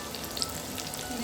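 Dried red chillies sautéing in a pan with half-cooked onions for a spicy Chettinad crab masala, giving a soft, steady sizzle with faint crackles throughout.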